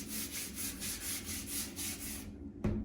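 Rough microcement wall or floor surface being hand-sanded, a steady rhythmic scraping in quick repeated strokes, close and fairly quiet, ending with a single sharp knock.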